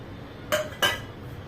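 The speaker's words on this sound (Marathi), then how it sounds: "हे बघा असं मिक्स करत करत गळून घ्यायचं आहे" Two quick metallic clinks of a spoon against the pan as jaggery is stirred while it melts in ghee, close and sharp over a quiet background.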